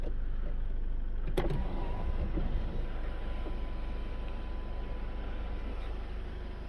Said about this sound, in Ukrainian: Скло автоматичне. Можна відкривати в різних положеннях.